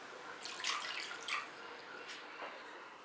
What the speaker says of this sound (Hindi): बोल में डालेंगे आधा कप दूध